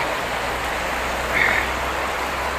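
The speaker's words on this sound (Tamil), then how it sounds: "அது உள்ளேயும் மழையை பாருங்கள், பயங்கர மழை." Heavy monsoon rain pours down steadily near a temple in Dharmasthala, Karnataka, a dense even hiss of drops on surfaces, close and constant with a brief brighter patch midway.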